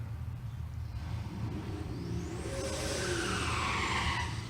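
A sixth-generation Chevrolet Camaro launches at a drag race, its tires squealing over a deep engine roar that climbs into a rising whine as the car pulls away.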